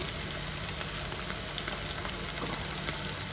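Chicken pickle hits a pan of frying rice for Schezwan fried rice, giving a steady, close, loud sizzle with light crackles throughout and no talk.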